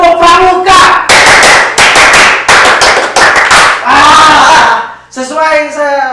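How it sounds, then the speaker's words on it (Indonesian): A group of scouts claps in a fast, patterned rhythm with bursts of sharp hand claps, voices chanting along, ending with a short spoken phrase. "Kita sekarang mengawali dengan ada bertepuk nih."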